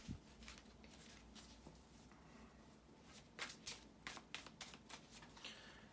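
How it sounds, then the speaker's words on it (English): A deck of tarot cards is shuffled in quick, crisp riffles and taps, faint and close, with brisker bursts toward the end. "bear with me a couple of seconds, guys, to shuffle the tarot cards"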